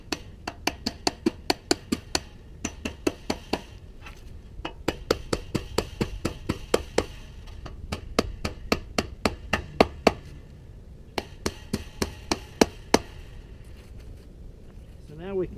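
Quick sharp hammer taps drive staples into a wooden fence post while barbed wire is tightened, coming in close bursts of rapid strikes with short pauses, over a low background hum.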